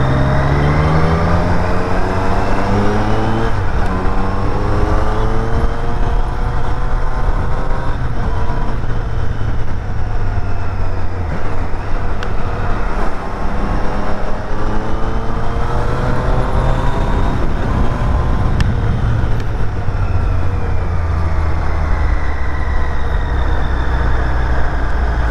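A Triumph Street Triple 765 RS motorcycle fitted with a race exhaust drones loudly and continuously while riding, its engine note rising and falling smoothly throughout.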